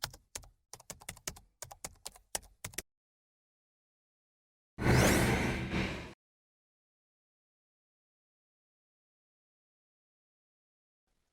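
Unboxing a Netgear EX6150 AC1200 WiFi range extender: a quick run of close, crisp taps and clicks from handling the box, then a short loud burst of plastic wrapping being pulled off, followed by silence.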